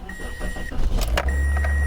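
A car's engine cranking over and catching after the ignition key is turned, then settling into a steady low idle, close by and alone.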